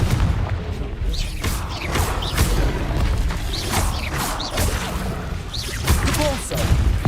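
Fiery spell blasts in a Hogwarts Legacy battle, dense booming explosions and whooshes piling up continuously over several seconds, loud and close with a clashing combat din underneath.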